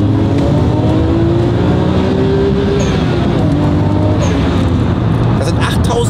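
A Nissan Skyline R34 GT-R engine held high at about 8200 rpm gives a loud, close, sustained howl whose pitch climbs slightly and steadily before it eases.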